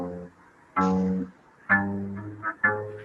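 Plucked acoustic guitar notes from a finger exercise ring out one at a time in a slow, halting sequence, each note sustaining briefly before the next, with no voices.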